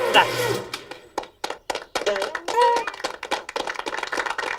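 Cartoon vegetable characters make a string of sharp, separate clap-like thunks and taps, irregular and close, interspersed with brief spoken lines.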